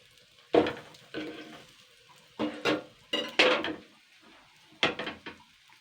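A metal spatula clatters and scrapes in a karahi, lifting fried fish egg fritters out of the pan in short sharp bursts spread across several seconds, with a light sizzle between the strokes.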